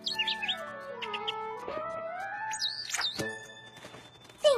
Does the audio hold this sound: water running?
no